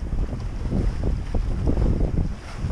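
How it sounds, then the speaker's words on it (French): Strong wind buffets a sailboat on a beam reach across a choppy sea off Cap Corse, Corsica, with waves sloshing beneath. It is a loud, continuous roar with no voices. "Il y a force 9 nœuds de vent, vent de travers,"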